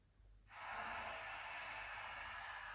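A deep breath drawn in through the nose during a pelvic floor exercise, starting after a short quiet pause and holding as a steady, close, breathy rush to the end.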